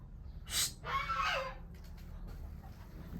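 A chicken clucks a few times nearby, short bursts over a low background rumble, then quieter rustling.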